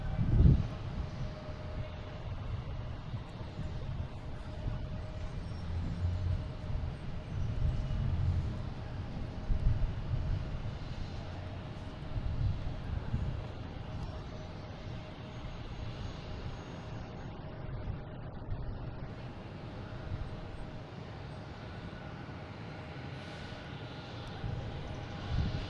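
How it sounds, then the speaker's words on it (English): A Southwest airliner taking off at Boston Logan International Airport, heard as a steady, fairly distant engine roar that holds without a break for nearly half a minute under general airport background noise. "Then we got a Southwest here taking off, heading to Baltimore, Washington, flight"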